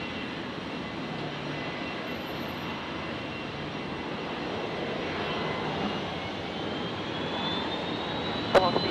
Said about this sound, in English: Virgin 986 on the roll, 19 left.